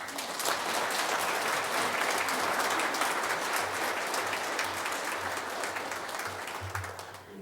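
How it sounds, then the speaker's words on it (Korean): Congregation applauding in a church during a Sunday service, dense steady clapping from many people sustained throughout, then tapering slightly at the end. "이제 나오실 때 감사의 박수를 드리십시오."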